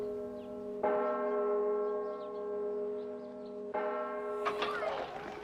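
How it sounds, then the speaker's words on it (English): A church bell tolls outside a church building, two deep resonant strikes a few seconds apart, each ringing on with a long humming decay, fairly close and alone. "the bell tolls, letting us know that the kids are getting ready to leave the building"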